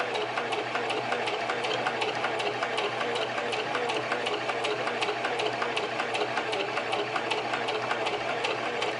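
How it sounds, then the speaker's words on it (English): A sewing machine stitching a skirt dart off the fabric edge, running steadily with a fast, even mechanical whir and needle clatter, close and continuous. "I wanna sew it so smoothly to where it just blends right off the edge"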